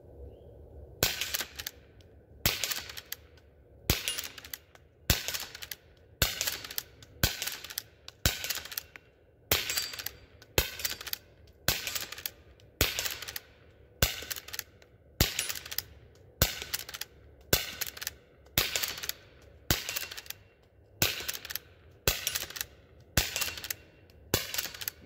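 A Rossi Rio Bravo lever-action rifle fires .22 shorts in a string of about two dozen sharp, evenly spaced cracks, each followed by the metallic clack of the lever cycling, loud and close with no talking.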